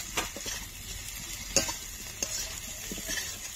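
Spices, ginger paste and turmeric fry in oil in a pan for a rohu fish curry with potato and green banana, with a soft steady sizzle broken by a few sharp scrapes and clinks of a spoon stirring.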